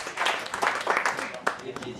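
An audience at a French handover gathering applauds for Jean Couillard, a short burst of uneven, fairly close clapping with voices mixed in.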